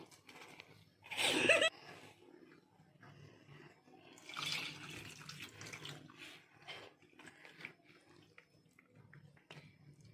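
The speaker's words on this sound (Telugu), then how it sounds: "వాటర్ పోసుకుంటూ కలుపుకుంటూ ఉండాలండి" Water is poured into gram flour batter in a bowl while it is mixed by hand, a brief splashing burst followed by quieter wet stirring and squelching, faint and close.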